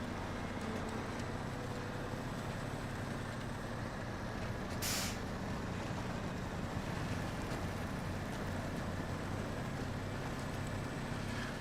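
Mad Max style truck in the SnowRunner Washington map idling with a steady, loud engine rumble, a brief hissing air release partway through.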